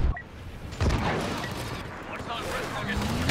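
Dual pistols fire in a Star Wars video game with a sudden punchy shot followed by further gunfire over a busy, rumbling battle background.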